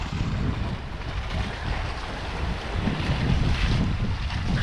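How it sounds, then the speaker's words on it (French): A sailboat running fast under spinnaker at more than 7 knots off La Cassidaigne, with steady loud wind roar over the microphone and rushing water along the hull, continuous with no pauses. "On avance comme des fous, là. À plus de 7 nœuds, on est sous spi."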